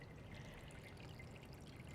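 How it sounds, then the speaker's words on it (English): Water pours into a gutter and down into a beaker in a sink during a home hurricane-readiness demonstration, a faint, steady trickling stream with no voices. "I can hear the water pouring into the non-fortified side."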